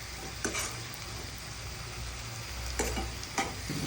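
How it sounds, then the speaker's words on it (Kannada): Tomato curry masala with garam masala and coriander powder fries steadily in a pan, with a continuous soft sizzle and a few scraping stirs, at close range with no talking. "ಇದು ಚೆನ್ನಾಗಿ ಫ್ರೈ ಆಗಬೇಕು."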